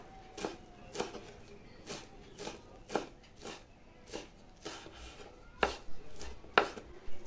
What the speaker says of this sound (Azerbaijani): bir qaba yarım dəstə reyhanı doğrayıb əlavə edəcəyik